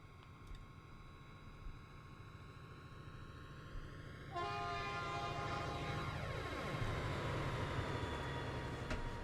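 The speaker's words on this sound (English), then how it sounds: "Alright, here comes the train." A train in Trainz Simulator 3 on a Rocky Mountains route approaches and passes, its horn sounding with sustained chord tones over a steady rumble that swells louder, then the pitch drops as it goes by.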